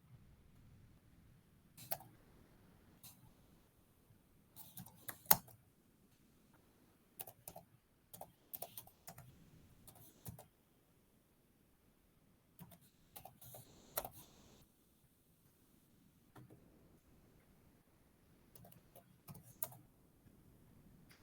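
Close computer keyboard typing of HTML code, irregular bursts of quick key clicks separated by short pauses, with no talk.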